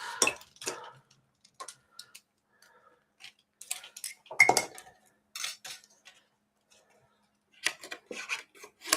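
Scissors snipping through card for a shutter card, sporadic crisp cuts and clicks close by with quiet gaps between bursts, no talking.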